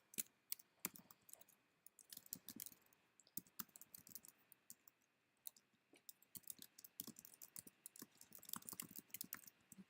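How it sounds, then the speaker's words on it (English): A keyboard clatters with quick, uneven keystrokes as a short comment is typed, forming a steady run of light close clicks with occasional brief pauses, fairly quiet. "I'm just going to type a little comment in just to kickstart it"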